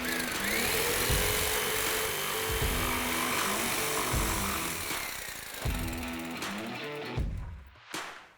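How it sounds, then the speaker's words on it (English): A jigsaw cuts the top lip off a plastic bucket, a loud, continuous buzzing saw drone with brief pauses and restarts as the blade works through the plastic, then stops near the end. "Today I'm using my jigsaw to make this cut."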